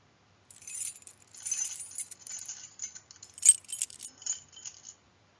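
A bunch of keys jangles and clinks nearby in repeated bright metallic shakes, with no one speaking.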